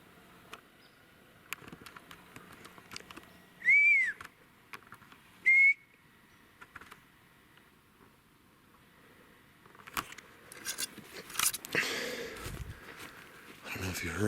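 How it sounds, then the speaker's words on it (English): Two short, clear whistles ring out a couple of seconds apart amid quiet outdoor surroundings at a forest campsite at 12,000 feet, followed later by rustling and handling noises. "I don't know if you heard those whistles or not."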